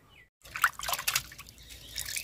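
Pabda fish being rinsed by hand in water, with soft trickling, splashing and dripping after a brief silent pause at the start, close and fairly quiet, with no talk.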